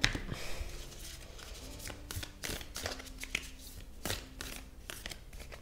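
Playing cards being shuffled by hand, a run of quick papery riffles and soft snaps in irregular bursts, close and moderately quiet, with no talking.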